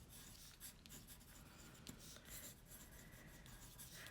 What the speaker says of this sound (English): I just want to take a moment on here to write my personal intention